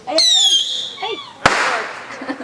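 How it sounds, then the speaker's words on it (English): Backyard fireworks at a suburban house party go off at night: whistling rising shrieks climb and fade, then a single sharp bang bursts out, followed by crackling and scattered pops, with voices faintly mixed in. "about to light off the fireworks tonight"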